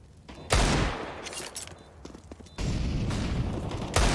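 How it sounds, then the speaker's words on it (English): Gunfire in a CS:GO match, with sidearm shots cracking close and loud as separate bursts over a busy, noisy game mix. "Boxhalls firing back and unable to catch anything with his sidearm"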